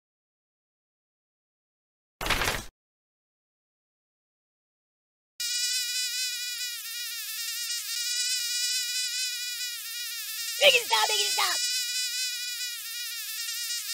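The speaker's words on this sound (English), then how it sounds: "Hey, did you see my frog somewhere around here?" A frog in the video game Kick the Buddy gives a sustained buzzing, reedy croak that runs on steadily after a short earlier burst, with a cartoonish voice cutting in briefly.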